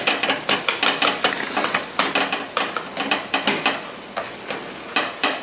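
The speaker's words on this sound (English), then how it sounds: "the tomatoes cooking down so fast right now at this point. And I just keep like to mix it up, kind of break it down the chunks a little bit" A spoon works through chunks of tomatoes cooking down in a pan, making quick rhythmic scraping strokes about twice a second over a soft continuous sizzle, close and alone.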